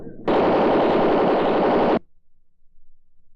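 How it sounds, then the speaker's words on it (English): A Tommy gun fires one sustained, loud, close burst of rapid machine-gun shots lasting under two seconds in an old radio drama episode set in Istanbul, then cuts off abruptly to near silence. "That machine gun won't do you any good, Race."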